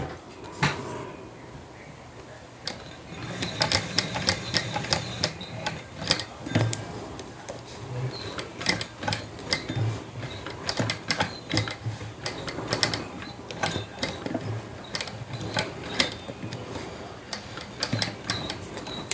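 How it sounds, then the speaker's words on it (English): A sewing machine turned slowly by its hand crank while stitching around a curve on a sling hip bag gives soft, irregular ticks and clicks with short pauses, fairly quiet and close, with no talking. "I'm just hand cranking around that curve because I don't want any overstitching"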